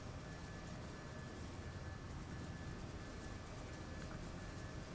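A train runs through a mountain scenario in Train Simulator, a low, steady rumble with broadband rolling noise at even, moderate volume and no talk over it.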